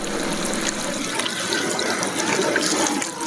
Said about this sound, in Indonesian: bilas kembali dengan menggunakan air bersih